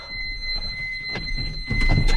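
Check-engine warning buzzer in a Caterpillar 316 excavator, a steady high-pitched tone holding throughout over low machine rumble and cab noise.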